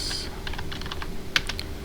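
Quick keyboard taps while typing commands in a Linux Debian terminal, a short run of crisp clicks with one louder key strike near the end, close over a faint hum.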